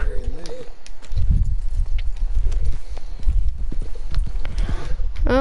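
Horse hooves clip-clopping in the open-world western game Red Dead Redemption 2, steady walking hoofbeats close by, with someone talking over them.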